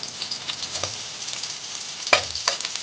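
Onion sizzles in a hot pan while cooking patola with pork chicharon and misua, a steady close frying hiss with light stirring clicks and one sharper clatter, no one speaking.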